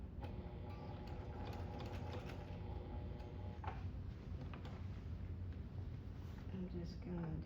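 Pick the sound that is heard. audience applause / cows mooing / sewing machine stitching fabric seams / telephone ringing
sewing machine stitching fabric seams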